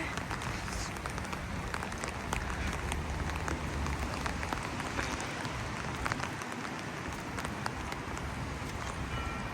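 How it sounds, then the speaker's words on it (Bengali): Steady rain falls outdoors, a dense continuous hiss with scattered splashes and drips holding an even level throughout, with faint traffic-like rumble underneath. "হায় রে বৃষ্টি বৃষ্টি রে বৃষ্টি সারাদিন বৃষ্টি ভালোই বৃষ্টি হইতেছে"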